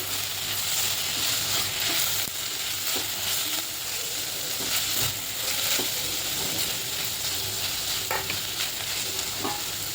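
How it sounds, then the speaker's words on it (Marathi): Chopped potato and onion sauté in hot oil in a pan, a loud continuous sizzle broken by occasional soft scrapes and knocks of a spoon stirring. "त्यामध्ये मी 1 बटाटा कापून टाकते, बारीक कापले. तो परतते."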